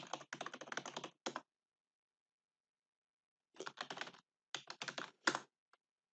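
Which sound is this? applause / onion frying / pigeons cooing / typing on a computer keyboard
typing on a computer keyboard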